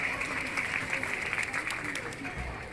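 Applause from an audience at a Shivhare community celebration of Lord Sahastrabahu's birth festival in Biaora, a steady wash of clapping under a hum of crowd noise throughout.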